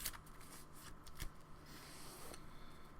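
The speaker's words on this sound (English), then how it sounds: "then I just shuffle sleeves" Empty plastic card sleeves shuffled in hand during a Magic: The Gathering match, giving a continuous soft papery riffling and rubbing texture with a few sharper flicks, fairly quiet and alone.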